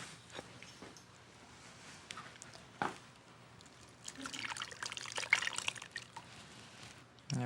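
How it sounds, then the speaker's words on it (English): Cooled cocoa mixture pours into chocolate cake batter, a wet trickling and splattering that swells in the second half after a few scattered drips and knocks, close and moderately loud with no talk. "now we're going to pour in the cooled cocoa mixture"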